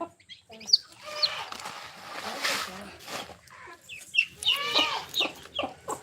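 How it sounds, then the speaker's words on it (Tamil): A young chick peeps in high, short chirps while being held in a hand, with clucking fowl nearby. People talk throughout. "ஒரு குஞ்சு நான் கையில் பிடிச்சிருக்கேன் காமிக்கிறேன் வெளிச்சத்தில் வச்சு"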